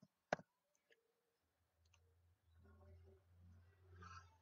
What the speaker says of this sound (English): so I am clicking next on